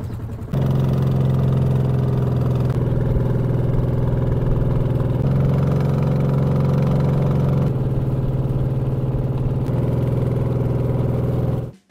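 A bangka boat engine drones steadily at a constant pitch for several seconds on water in Bulacan, Philippines, loud and close, with no voices, then cuts out at the end.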